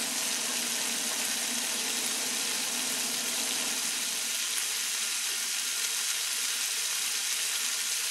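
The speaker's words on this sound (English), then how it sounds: "Let's sit back for a second so you can hear the sizzle." Steady, even sizzling fills the whole stretch, a dense crackling hiss from corn frying in garlic butter in a pan, close and continuous with no talking.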